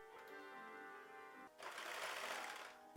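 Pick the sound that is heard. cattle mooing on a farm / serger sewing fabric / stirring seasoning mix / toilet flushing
serger sewing fabric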